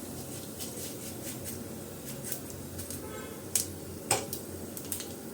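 Mustard seeds, cumin and white sesame dropped into a pan, giving scattered faint ticks and crackles, with two sharper metallic clinks partway through; no one speaks.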